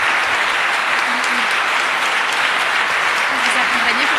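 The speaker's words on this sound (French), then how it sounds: "Je pense qu'on peut les applaudir très fort." Audience applauding loudly for three performers at an event, sustained dense clapping throughout with faint crowd noise mixed in.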